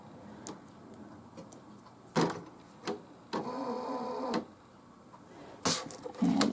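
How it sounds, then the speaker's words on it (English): A ScanNCut cutting machine powering up, giving a series of sharp clicks and ticks with a brief mechanical whir between them, close by and moderately loud, with no speech. "Okay, so now I'm just going to turn on my machine."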